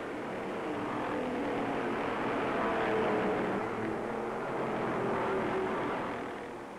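1956 NASCAR race cars roar at full speed on the Daytona Beach course, a dense, sustained engine drone with slowly shifting pitch that swells and fades slightly as the field passes.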